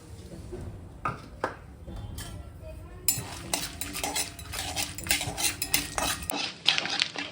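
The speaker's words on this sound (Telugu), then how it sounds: "కొంచెం జీడిపప్పు ఇవి వేసుకుని వేయించుకోవాలి." Metal spoon scrapes and clinks against a pan as cashews, mustard seeds, chana dal and urad dal fry in ghee, with steady stirring strokes over a soft sizzle.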